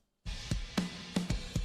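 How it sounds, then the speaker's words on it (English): A short metal drum track starting abruptly with the refiner effect switched off: kick and snare hits with a steady wash of cymbals, fairly dry and flat-sounding. "So if I switch off the refiner, the drums sound like this."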